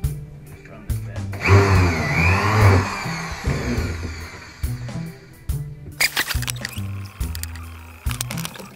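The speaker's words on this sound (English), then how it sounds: "Now I'm countersinking." A power drill spins a countersink bit into wood for sailboat plate and cabinet storage, a loud whirring burst with rising and falling pitch, followed by clattering handling noises nearby.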